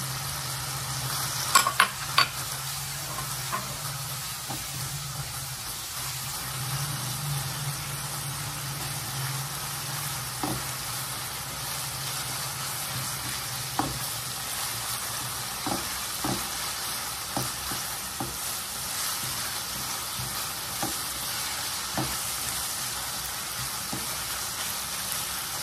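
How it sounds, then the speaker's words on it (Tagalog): Garlic sizzles and fries in a pan with browned ground beef and onion, a steady crackling hiss broken by scattered clicks and scrapes of stirring, close and without talk. "Lagyan yung garlic."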